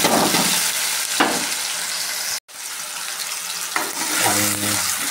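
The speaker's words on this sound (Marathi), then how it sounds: "कांदा आणि टमॅटो चरा चरा चरा चरा बघा असं भाजून घेऊया" Onion and tomato sizzle loudly in hot oil in a pan, a dense steady frying hiss up close that cuts out briefly midway and then resumes with some scraping.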